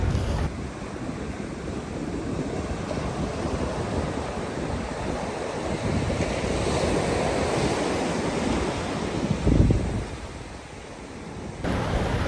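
Ocean waves on a beach, a steady loud wash of surf with a wind-buffeted swell near the end and no voices.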